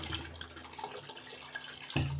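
Water poured into a large pot of rice, about 1.5 kg, for vegetable pulao: a steady splashing, running pour close by throughout, with a louder burst near the end.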